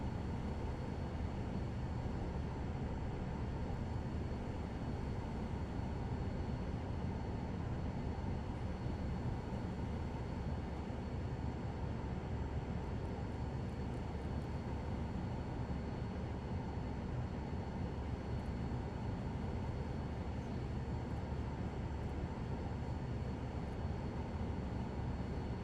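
Aircraft takeoff in Microsoft Flight Simulator 2024, a dense, steady engine roar with a constant high whine running unchanged throughout.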